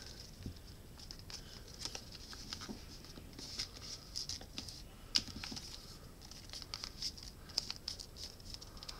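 Soft, faint rustles and crisp little taps of origami paper being creased and folded back over itself while shaping a giraffe model, with irregular, quiet handling noises spread across the whole stretch.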